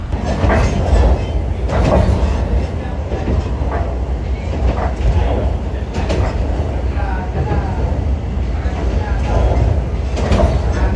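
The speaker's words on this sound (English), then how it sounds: "Average speed of this train is 50 to 55 kilometers per hour" An air-conditioned passenger train runs along a reconstructed stretch of railway in the Philippines at about 50 to 55 km/h, heard from inside the carriage as a loud steady rumble with rhythmic clacks.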